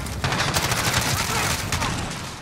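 Rapid, heavy gunfire in a battle royale video game, a loud continuous burst of overlapping shots close by, with a player's voice speaking during the barrage.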